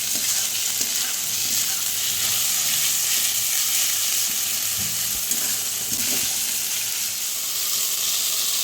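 Onions fry in hot oil with a pinch of salt for a mutton curry, giving a steady close sizzle with light stirring scrapes throughout.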